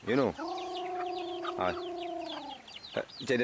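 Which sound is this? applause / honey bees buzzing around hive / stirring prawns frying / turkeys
turkeys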